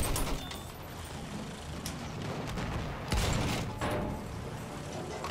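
Machine gun in Battlefield 1 firing in short irregular bursts amid battlefield clatter and mechanical noise, moderately loud, with a heavier bang near the middle.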